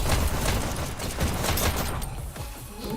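Rapid bursts of automatic gunfire from a VR e-sports shooter match crackle almost nonstop, loud and dense, with a few sharper shots near the end.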